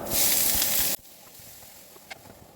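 Chopped onions, carrots, tomato and capsicum hit a hot frying pan for masala vegetable pasta, a loud bright sizzle for about a second that cuts off sharply, leaving faint crackling and a small clink after.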